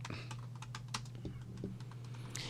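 Fingers tap on a computer keyboard in quick, irregular clicks, faint and close, over a low steady electrical hum with no talking.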